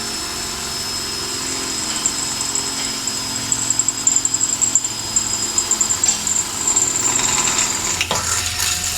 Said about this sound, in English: you are drilling metal overhead